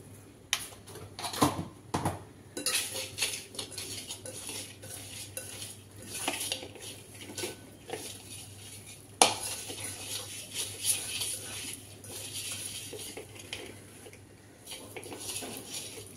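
Ingredients for a chivani fish curry are mixed by hand in a bowl, with soft squelching and repeated light clinks of a spoon or metal against the bowl, close and fairly quiet, with one sharper knock midway.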